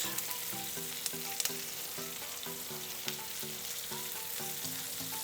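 Onions cook in a pan for Salisbury steak, giving a steady crackling sizzle throughout, with soft tonal music playing alongside.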